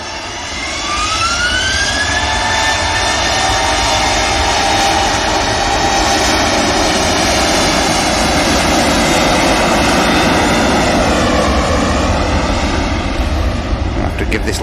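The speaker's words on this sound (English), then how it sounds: "SD Aviation Cessna Citation Mark II is heading out to Curry over in Ireland" Loud jet noise from an SD Aviation Cessna Citation Mark II business jet heading out at Manchester Airport, a close, sustained roar with a rising whine that swells early and then holds steady.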